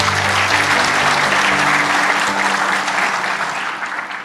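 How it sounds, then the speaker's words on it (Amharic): An audience at a talk on stress and wellbeing by Dr Wodajeneh Meharene applauds loudly and steadily, the dense clapping filling the room and fading slightly near the end. "አጨብጭቡ ለዚህ።"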